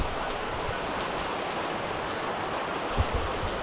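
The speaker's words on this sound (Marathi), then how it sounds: "जोरदार असा पाऊस पडत आहे" Heavy rain pours down steadily at night, a dense unbroken hiss with no voices, close and loud.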